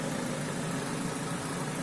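A car engine idles steadily after a heater core flush, the cooling system being burped with the cap off; an even, continuous mid-pitched hum with no revving and no voices.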